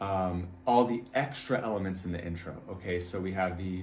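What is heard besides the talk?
No distinct noise like a dog, phone or traffic.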